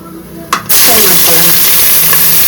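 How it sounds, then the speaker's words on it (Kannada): Sliced onions for biryani hit hot oil and fry on a high flame, a sudden loud, steady sizzle that erupts after a brief clatter and keeps hissing close up. "ಇವಾಗ ಒಂದು ಸ್ವಲ್ಪ ಹೈ ಫ್ಲೇಮಲ್ಲಿ ಇಟ್ಕೊಂಡು ಈರುಳ್ಳಿನ ಫ್ರೈ ಮಾಡ್ಕೊಬೇಕು"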